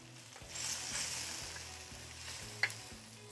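Mushrooms, artichoke hearts, diced tomatoes and onion sizzle quietly in a pan, a steady soft frying hiss with a faint clink near the end.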